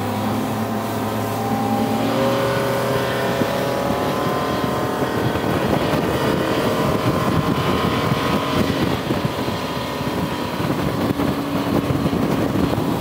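A Bennington QX28 pontoon boat powered by a Yamaha 425 XTO outboard runs down a lake in wind, its steady engine drone and rushing water and wind noise loud and continuous throughout.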